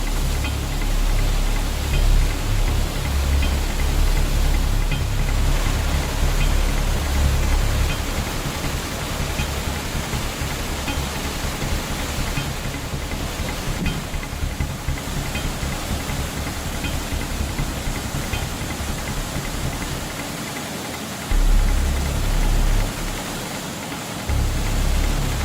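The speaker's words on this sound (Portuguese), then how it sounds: "Um riacho tão turbulento pode desafiar até mesmo o mais ávido fã de rafting radical" A turbulent stream roars without pause, its rushing water thick with a deep low rumble throughout and a brief dip in the bass near the end. No voices are heard.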